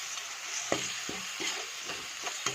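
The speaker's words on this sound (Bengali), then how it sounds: "অল্প জল দিয়ে আমি লাড়ছি, তাতে দিয়ে দেবো এখন ছোলা" Chickpeas being stirred with ground spices and onion paste in an oily pan, a soft steady sizzle broken by several distinct scraping stirs at an uneven rhythm.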